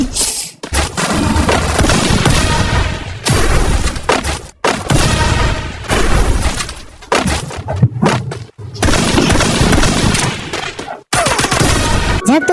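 Loud, dense bursts of gunfire from a shooting video game, with rapid shots and booming impacts that come in long volleys separated by brief silences.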